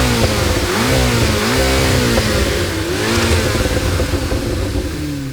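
A 2025 Corvette ZR1's twin-turbo flat-plane crank V8 roars loud and close, its pitch rising and falling through repeated revs over a dense, continuous engine growl.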